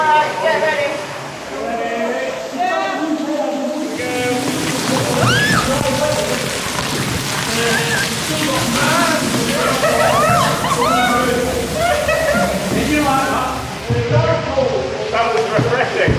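Water pours and splashes from the roof of a long canal tunnel onto a canoe, a loud rushing spatter that lasts through most of the stretch while people call out and react.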